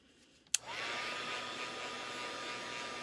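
A heat tool switches on with a click and blows a steady loud whooshing hum while warming stamped ink on dominoes, continuing unbroken to the end.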